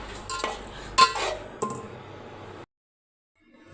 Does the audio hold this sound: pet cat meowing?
no